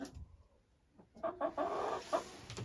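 Laying hens on a backyard poultry farm cluck in a quick series of short, close calls, rising in loudness after a quiet start, with a busy flock chatter filling the last second.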